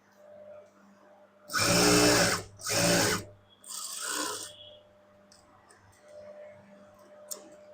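A sewing machine stitching a blouse hem runs in two loud, close bursts, then a softer third run, followed by quiet clicks and light handling.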